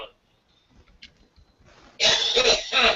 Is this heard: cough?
yes